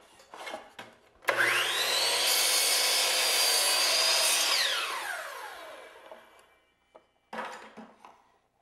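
A power saw cuts a piece of crown molding. The motor whines up, holds a loud steady roar through the wood for about three seconds, then winds down, with handling clatter before and after.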